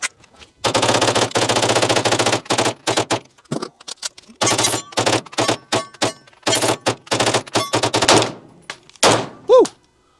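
A PSA Jakl rifle chambered in .300 Blackout fires in loud, close bursts and rapid strings of shots outdoors during a 1,000-round torture test, with brief pauses between volleys.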